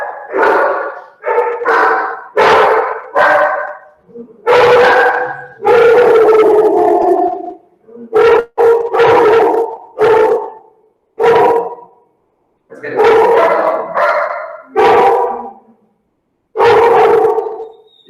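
Several dogs barking loudly and close by in repeated bursts with short gaps, some barks stretching into howls, over about eighteen seconds.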